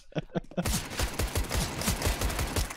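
Rapid automatic gunfire from the tactical shooter CS:GO in Wingman mode, a dense burst of repeated shots running steadily after a few quick opening shots, loud and close.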